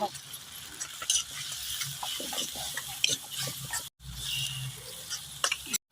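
Spices and turmeric sauté in oil over a village wood-fired clay stove, a soft continuous sizzle mixed with stirring scrapes and light clinks, briefly cut off once midway.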